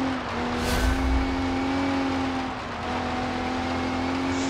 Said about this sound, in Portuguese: E o carro vem escorregando de lado.